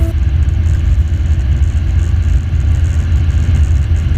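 Light aircraft engine at an aerodrome throttled up to about 4,000 RPM during a pre-flight run-up, a loud, steady, close-up roar and rumble that holds constant throughout with no talk.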